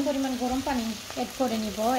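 Onion fries in a pan for a deer meat curry, giving a close, steady sizzle with a melodic voice sounding over it.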